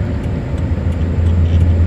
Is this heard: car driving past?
yes